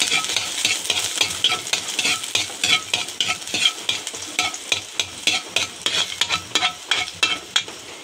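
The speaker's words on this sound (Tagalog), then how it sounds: "mainit na po yung kawali. Lalagyan na natin ng kunti lang yung oil. Panggisa lang ng ng lamas. So, una ay bawang." Garlic sautés in a little hot oil in a pan, sizzling steadily and close. A spoon scrapes and stirs through it in a quick, regular rhythm, and no voice is heard.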